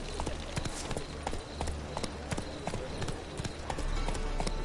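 In a video game, the horse Roach walks with steady, evenly spaced clip-clopping hoofbeats, close and distinct over a low background rumble.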